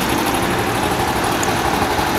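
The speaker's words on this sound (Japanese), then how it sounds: "調子もいいんですぐアイドリング安定しますね。" A Honda Super Cub 90 carbureted motorcycle engine idles steadily close by, a continuous rough, even rumble with no pauses or voices.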